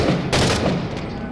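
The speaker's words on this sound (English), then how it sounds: "Grenade." A grenade goes off in a first-person shooter game: one sharp, loud burst at close range, set in a short stretch of gunfire rattle.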